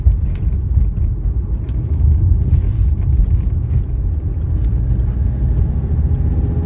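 A 1983 Mercedes 300D diesel drives along a road, heard from inside as a steady low rumble of engine and road noise with a few faint clicks.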